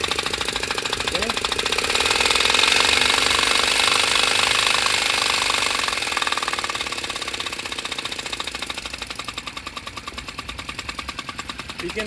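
A linear gear drive engine prototype without a crankshaft runs on low air pressure, giving a loud, steady mechanical chatter of rapid rhythmic knocks. The knocking grows louder near the start and eases slightly toward the end.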